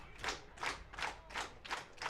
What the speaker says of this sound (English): Here's the crowd behind Cesar Rosado.